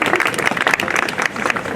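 An audience claps steadily for a newly qualified ski instructor at a school reunion-style celebration, a dense, sustained round of applause with no break, close and fairly loud.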